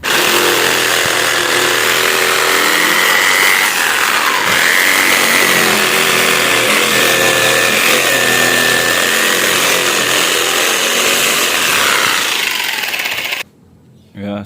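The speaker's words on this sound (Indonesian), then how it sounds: "nanti kita ratakan memakai mesin gerindanya langsung ya" An angle grinder whines loudly and continuously while cutting metal, a harsh steady roar with shifting pitch that cuts off abruptly near the end.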